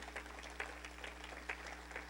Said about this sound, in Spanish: Podemos darle un aplauso al Señor en fuerte.